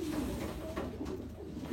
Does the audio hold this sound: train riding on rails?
no